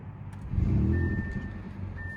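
A 2020 Audi S6 engine turning over and settling into a low rumble, close inside the car, with a steady electronic chime tone over it.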